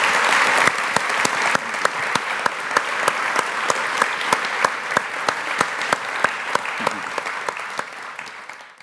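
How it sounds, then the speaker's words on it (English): An audience at a forum discussion on technology, politics and theology claps in sustained applause, dense and even with a few louder claps standing out, continuing for several seconds. "So please join me in giving them both a round of applause."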